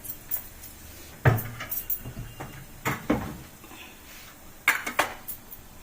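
A metal kadai is set down on the stove for cooking chutney, with clanks and scrapes of cookware and a few sharp knocks spaced irregularly and close by, no talk.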